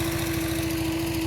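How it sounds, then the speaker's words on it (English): A lawn mower cutting golf course approaches runs with a steady, droning engine hum and constant vibration, loud and close, with no talking. "today we are mowing approaches"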